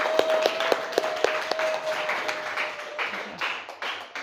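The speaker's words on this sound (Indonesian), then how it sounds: "Oke, bagus sekali, tepuk tangan." A classroom breaks into a short burst of clapping, a quick run of sharp rhythmic claps at first, then scattered looser applause tapering off, fairly faint and roomy.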